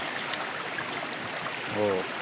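Water flowing at Kabuayahan Falls, a constant hissing rush of a clear stream, fairly close and steady, with a brief voice near the end.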